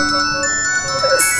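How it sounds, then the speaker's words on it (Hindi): A mobile phone rings nearby with a repeating electronic tone that runs through the whole short moment and rises into a brighter burst at the end, with no talk. "आ रही, फोन की आवाज आ रही है"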